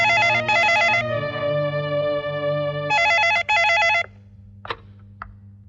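A classic telephone bell rings in two double bursts separated by a sustained tone, loud and close, ringing out alone with no talk over it.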